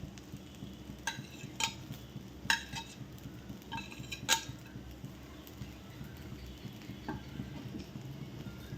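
Fried potato and carrot pieces going into a pan of cooked semolina upma, with a few sharp clinks of a spoon against the pan and a soft low stirring rustle throughout, fairly quiet and without talk.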